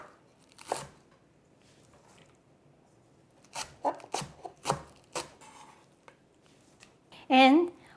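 Chives and onion being chopped with a knife on a board for a Korean chive pancake, a few sharp crisp strokes clustered close together, then a brief louder scrape at the end, in a quiet kitchen.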